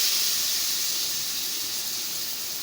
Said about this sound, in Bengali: এবার জিরে দিয়ে পেঁয়াজ আর রসুনটা দিয়েছি।